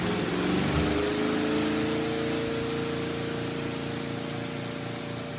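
A Giantex mini portable clothes washer spins steadily, a constant whirring motor hum with a broad wash of noise over it, fairly loud and unbroken, with a faint cyclic rhythm from the spinning drum.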